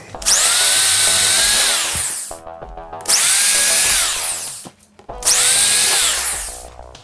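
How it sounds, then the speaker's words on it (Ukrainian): Power drill boring holes in a plastic bucket for a homemade hydroponic tomato setup, three loud whining bursts of about two seconds each with brief pauses between, close up and without talking. "і сверлю отвори"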